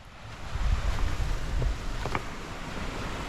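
Waves washing against a shore under gusty wind, a continuous rushing swell with faint creaks, moderately distant.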